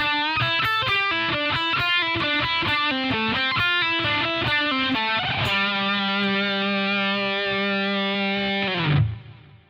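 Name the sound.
electric guitar playing the third lick of a solo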